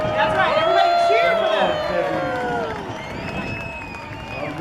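Parade crowd on Constitution Avenue at the Washington DC Cherry Blossom Festival, cheering and shouting for children racing, a dense continuous mix of many voices and whoops, loud and close, with talking woven through.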